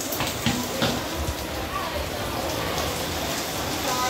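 Steady rain falling in a Vietnamese setting, a continuous wash of patter on surfaces that stays even throughout, with a few brief voice-like sounds mixed in beneath the hiss.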